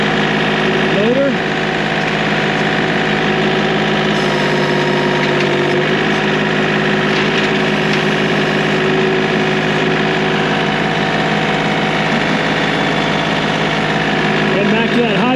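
A John Deere 4105 compact tractor engine idles with a loud, steady, close mid-pitched drone that holds evenly throughout.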